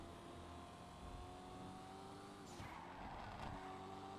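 Blackfin car racing in a video game: a continuous snarling engine drone with tire squeal and skidding sweeps, steady and moderately loud.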